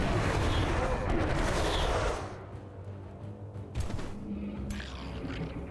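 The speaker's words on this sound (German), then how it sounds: "Dann machen wir Leichenexplosion." A corpse explosion spell in the fantasy strategy game Age of Wonders 4 bursts with a loud, dense rumbling blast that fades into lower crackling and a few lighter thuds.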